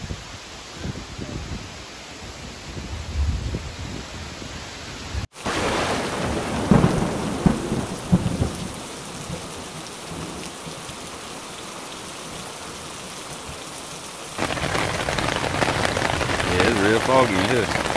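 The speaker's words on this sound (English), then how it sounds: "apparently we got rained on everybody" Steady rain falls through a forest in Black Forest State, Wisconsin, while thunder rumbles on a hiking trail. A sharp, loud crack is followed by long rolling thunder under constant rain hiss, with some voices in the background.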